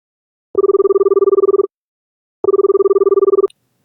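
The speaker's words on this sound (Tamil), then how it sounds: "இருடா ஃபோன் பண்ணி பார்க்குறேன்." Two loud, close bursts of a trilling telephone ring from an outgoing phone call, each about a second long with a short silent gap between them.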